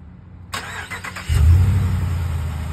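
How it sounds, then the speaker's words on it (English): A click and brief whir, then a 2019 Ram Big Horn pickup truck engine cranks by remote start and catches into a deep, rumbling idle that stays loud and close. "You start it up, it sounds mean."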